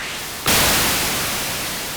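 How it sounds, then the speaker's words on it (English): White noise from a Korg Electribe ER-1 with sped-up sample and hold: a quieter hiss jumps abruptly to a loud, dense, steady wash of static that holds flat to the end. "It's a white noise. You can color it a bit."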